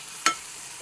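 A spoon scrapes once through a mixture of brinjal, tomato, green chilli and onion in a pan, giving a single short, sharp stirring scrape over a faint background sizzle, with no one speaking.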